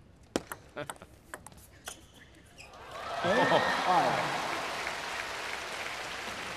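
Spectators at a table tennis match break into applause after a few sharp ball taps and a brief exclamation, the clapping swelling then easing into a softer sustained patter.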